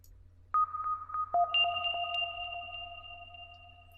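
A synthesizer forest lead plays an in-key melody of randomized notes, bright plucky tones stepping between pitches with sustained tails, loud and close with no voices.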